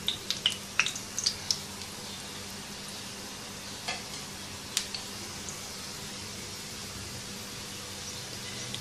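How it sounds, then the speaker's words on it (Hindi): Chicken shami kababs frying in a pan, a soft, even sizzle throughout with a few sharp clicks and taps of a utensil near the start and middle. "एक तरफ से फ्राई हो जाए तो साइड पलट देंगे।"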